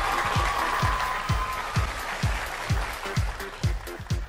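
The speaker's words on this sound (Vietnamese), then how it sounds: "Xin mời tất cả chúng ta một tràng vỗ tay thật lớn chào đón hai bạn trai" A studio audience at a Vietnamese dating show bursts into sustained, loud applause, the clapping blended with a steady rhythmic thump in the background.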